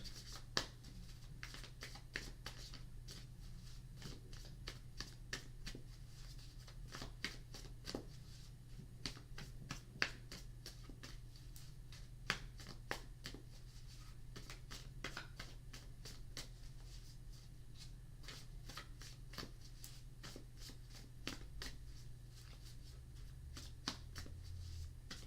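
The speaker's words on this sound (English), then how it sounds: "I had to make sure it shuffled pretty good" Tarot cards are shuffled steadily and at length, a quiet continuous riffle of flicks and slaps that runs close over a low room hum with no voice.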